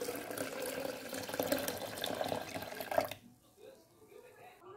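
Water pours steadily into a blender jar for about three seconds, one litre for passion fruit juice, then stops, leaving faint kitchen room noise.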